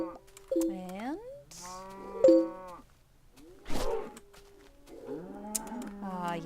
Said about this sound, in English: yes, the lovely sound effects that Better Than Wolves adds to breeding.